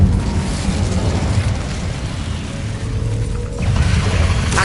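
Incendio fire spell in Hogwarts Legacy, a loud burst of crackling, roaring flame and rumbling noise that dips briefly and then swells again.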